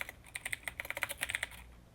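Typing on a computer keyboard while coding: a quick run of about fifteen crisp, close key clicks, fairly quiet, with no talking, fading out near the end.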